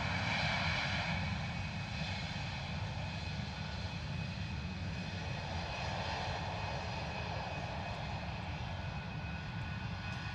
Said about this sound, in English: Lovely arrival, eh? EasyJet A320 in from Geneva with Sue Clayton's son on board as the pilot